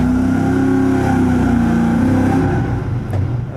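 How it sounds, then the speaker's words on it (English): Carbureted or fuel-injected V8 car engine running on a dyno with a slight misfire, loud sustained revving that holds steady and then eases off with a rougher, uneven tone near the end. "it sounds like it has a little bit of a misfire"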